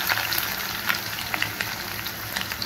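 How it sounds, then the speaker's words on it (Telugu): Onions hitting hot oil already crackling with mustard seeds, cumin and urad dal, a steady close sizzle with scattered sharp pops and spits throughout, no voices. "ఇప్పుడు అందులో ఉల్లిపాయలు వేసేస్తున్నానమ్మా"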